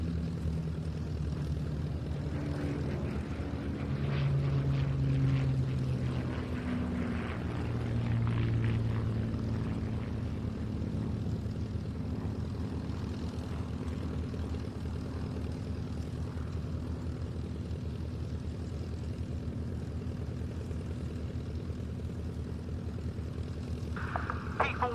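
A P-40 propeller fighter flies at an evening airshow at Duxford, its engine a steady low drone that swells and fades at moderate distance, with a commentator talking over it.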